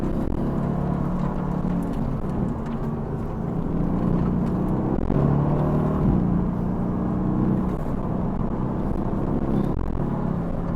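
A rear-wheel-drive Mercedes-AMG GT S drives in race mode, its engine a steady, loud low rumble and whir for about ten seconds with no talk over it.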